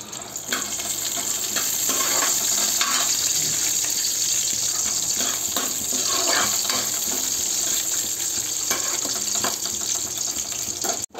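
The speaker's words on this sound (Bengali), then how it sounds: "কাজু কিশমিশগুলো ভালো করে ব্রাউন করে একটু ভেজে নেব।" Cashews and raisins frying in ghee in a pan, a continuous hissing sizzle with scattered crackles and faint stirring scrapes, steady and fairly close.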